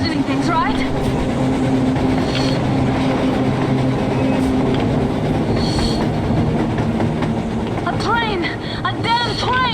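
A train rumbles past on the surface in Metro Exodus, a loud continuous clatter of wheels with intermittent metallic squeals, heard throughout over chatter from voices.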